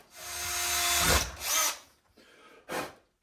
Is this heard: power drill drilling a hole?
yes